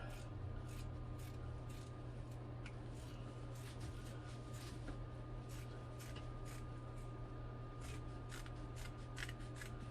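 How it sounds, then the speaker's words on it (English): Scissors trimming excess canvas material around a shield cover with gesso, a steady run of quick, close snipping cuts over a faint background hum, with no talking. "I'm gonna go around and trim all of this up"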